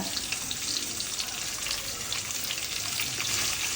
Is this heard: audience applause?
no